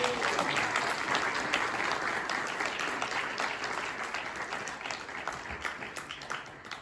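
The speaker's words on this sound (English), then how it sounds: "a round of applause." A crowd applauds at a county NAACP candidates forum, a dense, continuous wash of clapping that stays even and full for about seven seconds before thinning slightly toward the end, heard from a little distance.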